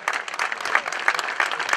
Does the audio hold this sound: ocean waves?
no